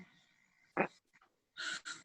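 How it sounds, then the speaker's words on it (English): A little dog pants in short breathy bursts, quiet and close, with a brief pause between the two clusters of breaths and no talk over them. "Oh, it's a little dog."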